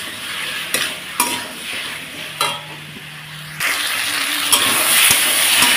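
Taro frying in a pan with ginger, garlic and chili paste gives a loud, close sizzle, broken by sharp spoon-scraping stirs that swell into a steady hiss, with no talk.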